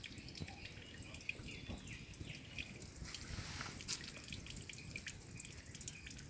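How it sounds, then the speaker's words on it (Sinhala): Water drips and falls inside a rock cave, with scattered faint droplets ticking over a low trickling wash, quiet and somewhat distant. "මේ ගල්තලාවේ වතුර වැටෙන සද්දයක් ඇහෙනවා"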